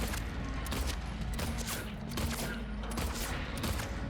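Rapid bursts of gunfire in a Silent Hill survival horror video game, dense and loud, continuing throughout with a mechanical background hum.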